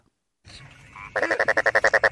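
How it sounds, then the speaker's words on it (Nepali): A frog croaks loudly and close by after a few quieter rustles: a quick, even series of about ten sharp croaks in steady rhythm, with no talk. "यता फेरि के हो मिस्टर भ्यागुते"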